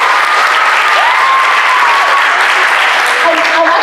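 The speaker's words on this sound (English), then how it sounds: "So please, let's just give them a hand of applause." An audience applauds at a school event, with loud, continuous dense clapping throughout and a faint voice or whistle-like tone rising briefly beneath it.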